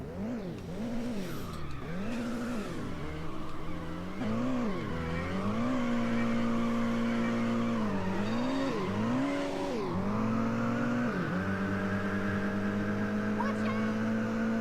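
In the Midnight Club 2 racing game, a car engine drones loudly and continuously, revving up and dropping repeatedly through gear shifts as it accelerates and drifts, with steady road and tire noise underneath.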